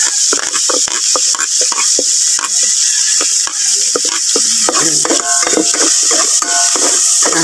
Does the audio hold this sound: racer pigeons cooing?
no